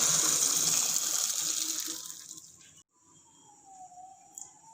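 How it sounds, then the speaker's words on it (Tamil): Water gushes and splashes loudly as it is drained from boiled sweet corn, pouring out steadily before tapering off into quieter trickles and a faint hum. "தண்ணியை ட்ரெயின் பண்ணி எடுத்துடலாம்."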